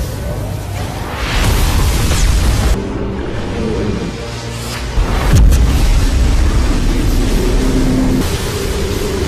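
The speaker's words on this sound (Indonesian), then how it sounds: "senjata itu kemudian mulai bekerja, dan menembakkan sinar energi ke angkasa" A giant weapon firing an energy beam into the sky in a film scene: dense, loud rumbling with deep booms and bursts layered over a sustained roar.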